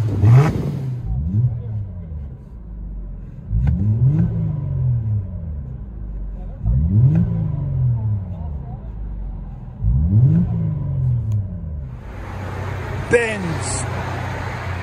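A 2008 Mercedes C300 4MATIC with dual exhaust and muffler delete revs repeatedly, four deep, smooth rising-and-falling pulls spaced a few seconds apart, followed by a steady idle with a brief sharp noise near the end.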